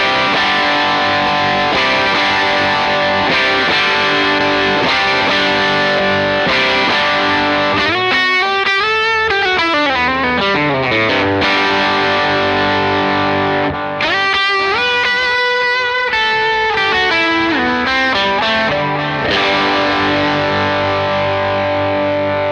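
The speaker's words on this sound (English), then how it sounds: "Swap over to the distortion." Bass guitar played through a distortion clone model on a Line 6 Proxy, with gritty sustained low notes and busy melodic runs, loud and continuous with no talking.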